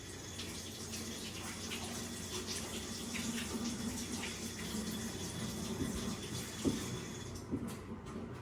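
Fresh ginger rinsed under a running kitchen tap, a steady soft hiss of flowing water with faint splashes and handling bumps, fairly quiet and close, no talking.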